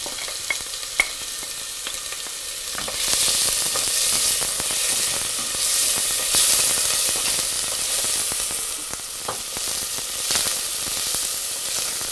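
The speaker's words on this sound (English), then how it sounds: "We're gonna add some oil, and to that we're gonna add some finely chopped onions" Finely chopped onions fry in oil for an Iranian shrimp stew, a steady broadband sizzle that swells louder after a few seconds and holds, with faint stirring clicks throughout and no talk.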